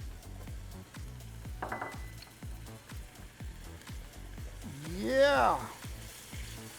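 Celery, capsicum and olives sizzling in a pan for caponata, a soft frying hiss with repeated clinks of a utensil against the pan as the vegetables are stirred, and a brief word spoken partway through.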